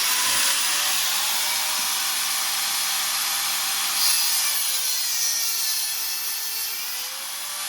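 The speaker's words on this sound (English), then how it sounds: "Angle grinder is coming out." An angle grinder cuts through a drain line during an MK1 Ford Fiesta build, producing a continuous loud, harsh, high whine that holds steady from start to finish.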